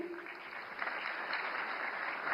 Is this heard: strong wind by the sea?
no